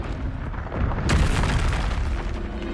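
Confringo fire spell from Hogwarts Legacy on PS5 bursts in as a loud, broad blast about a second in, its roar sustained and slowly fading over continuous game sound.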